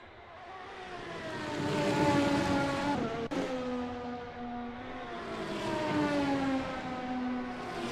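Race cars in a racing video game lapping the Red Bull Ring, several engine tones whining and rising as they pass, with a sharp gear-change dip midway, steady and moderately loud.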